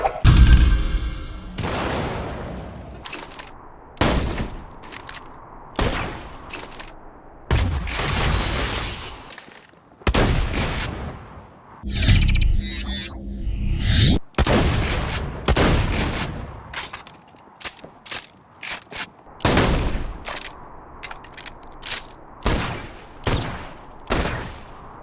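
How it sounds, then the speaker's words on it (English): A video-game shotgun's alternate fire launches explosive rounds: loud, separate blasts every second or two, each followed by a brief mechanical pump sound, with no talking. "The alt-fire explosive rounds use the same ammo"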